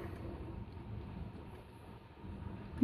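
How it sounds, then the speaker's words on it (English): Strong gusty wind of Storm Eunice blowing outside, a steady low roar buffeting the microphone that swells toward the end, with no voices. "Some proper wind going on out there."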